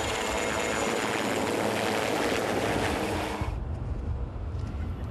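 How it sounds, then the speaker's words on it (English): Military helicopters during a rescue exercise in the French Alps give a loud, steady rotor and engine roar that fills the scene, then drops sharply to a quieter background drone partway through. "The helicopters involved in the rescue operation are Czech, Hungarian, Spanish, Belgian, and French."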